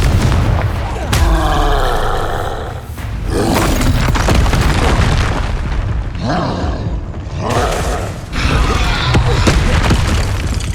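Repeated Confringo fire spells exploding in Hogwarts Legacy combat, loud booming blasts and crackling bursts in quick succession with a dense, continuous rumble.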